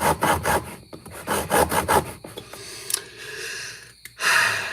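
A piece is cut by hand without a vise, with irregular close rasping saw strokes, fast at first, then slowing into scattered scrapes and pauses before a final burst of strokes.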